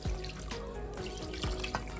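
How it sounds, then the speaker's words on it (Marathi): Hot water is poured into a cooking pot during mutton biryani preparation, giving a splashing, gurgling pour with a few drip-like plops, close and fairly loud, with no talking. "असं गरम पाणी मी इथे दोन मोठे ग्लास टाकलेला आहे"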